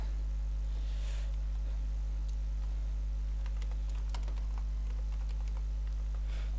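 Sparse clicks of keys on a computer keyboard while a chat greeting is typed in a fishing game, faint and close over a steady electrical mains hum, with no talking.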